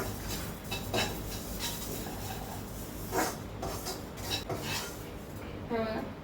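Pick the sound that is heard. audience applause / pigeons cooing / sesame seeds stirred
sesame seeds stirred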